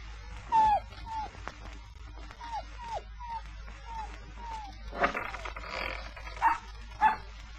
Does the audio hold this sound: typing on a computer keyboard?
no